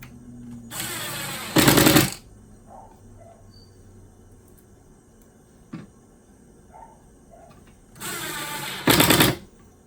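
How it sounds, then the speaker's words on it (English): Two bursts of a compact cordless drill whirring while installing cabinet handles, each revving up to a louder, higher pitch before stopping, with a small click in the quiet gap between them. "Got my compact drill."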